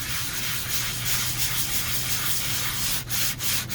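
Paper cardstock being sanded with steady back-and-forth rubbing strokes, a continuous close scratchy rasp with a few sharper pauses near the end, no voices.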